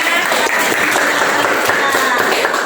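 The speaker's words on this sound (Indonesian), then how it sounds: "Oke, tepuk tangan semuanya." A class claps after a dance presentation at a vocational high school in Banda Aceh. Moderate, steady applause fills the whole stretch, with no clear voices above it.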